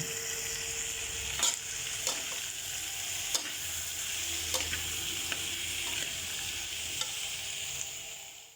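Chicken and ginger sautéing in a pan for chicken curry, a steady close sizzle and crackle with occasional sharp clinks of a utensil stirring against the pan.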